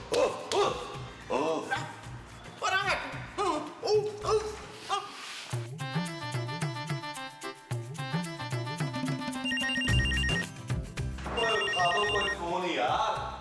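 A telephone rings with a repeated electronic trill after someone talks, continuing loudly in bursts with voices returning toward the end.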